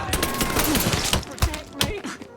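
A Mafia III firefight with a grenade blast and bursts of gunfire sounds as loud, rapid, overlapping shots and heavy thumps, close and chaotic, with shouting voices mixed in.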